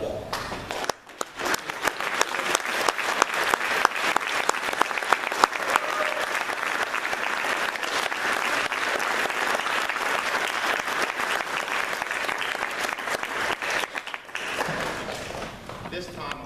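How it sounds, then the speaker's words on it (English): An audience at an Eagle Scout court of honor rises and claps, a dense, sustained round of applause filling the room for the full length with a brief dip near the end. "Will the audience please rise and give Eagle Scout Brandon Nastav a round of applause?"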